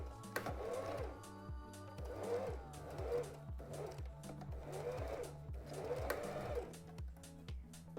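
A sewing machine back stitches on fabric for a double welt pocket, producing a quiet, rhythmic mechanical chatter with regular stitch pulses that repeat evenly throughout at close range.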